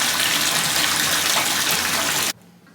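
Running water gushes steadily while a dog is bathed, a loud close splashing rush that stops abruptly near the end, leaving a quiet background.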